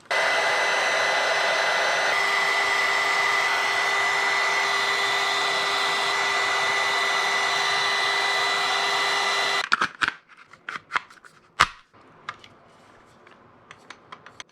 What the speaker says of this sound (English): I have to heat gun these tabs to hold that suppressor in place